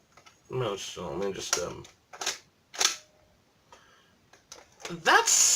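A Nerf-compatible magazine is pushed and clicked into a Buzz Bee Adventure Force crossbow, giving several close, sharp plastic clicks and rattles in an uneven run, alternating with someone talking.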